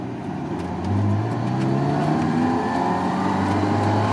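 A Ferrari 348 engine revs loudly up close as the manual gearbox slides into second, the engine note dropping and then climbing again in a steady, rising drone.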